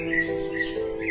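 A baby bird cries in a cartoon with high, squawking, whistle-like calls, close and fairly loud, repeating over a sustained tonal backing.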